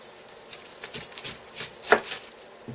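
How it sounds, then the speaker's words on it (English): A knife slicing both ends off a medium-large onion on a cutting board for enchilada sauce, heard as several separate crisp cuts and taps, close and fairly quiet, with no talking. "I have here a medium large onion. I cap it, both ends,"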